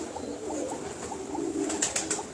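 A pigeon coos softly in a series of low, repeated murmuring calls, close and fairly quiet, with a few brief higher chirps near the end.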